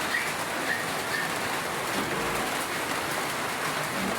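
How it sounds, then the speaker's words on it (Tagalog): Heavy rain pours steadily onto a surface close by, a dense, constant hiss that holds at one level without letting up. "Ito po yung sobrang lakas ng ulan."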